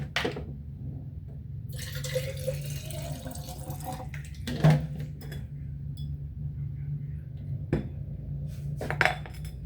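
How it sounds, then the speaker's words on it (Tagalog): Tap water runs into a vase being readied for flowers, a steady trickling splash with clinks and knocks of glass and dishware, occasional sharper taps, close and moderately loud, no talk. "Ay, lagyan muna natin ng tubig yung vase."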